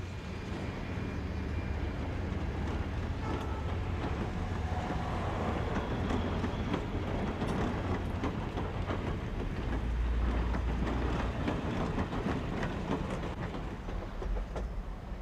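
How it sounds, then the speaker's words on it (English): Napa Valley wine train led by streamlined diesel locomotives, passenger cars rolling along the rails with a continuous steady rumble and faint clickety-clack, moderately loud and with no talk. "The streamlined diesel locomotives at the head of our train"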